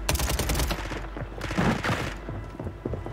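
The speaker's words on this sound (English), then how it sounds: "They should just let this gunfight finish up." Heavy video game gunfight: rapid, overlapping gunshots in dense bursts, loud and close, crackling volleys for about three seconds without talk.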